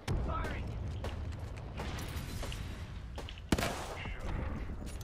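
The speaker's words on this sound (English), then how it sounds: "The heck is the teammate shooting at?" Rapid gunfire from a teammate in the Apex Legends video game crackles in dense, steady bursts, with one sharper shot standing out partway through.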